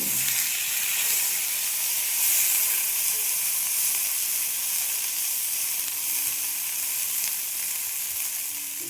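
Potatoes frying in oil in a pan for a tilapia curry, giving a steady, close, even sizzle with soft hissing throughout and no voices.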